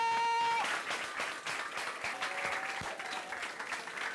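Applause breaks out for the Baba Lagré high school representatives at a school trophy ceremony, a dense crowd clapping steadily after a brief held tone at the start, with some voices mixed in.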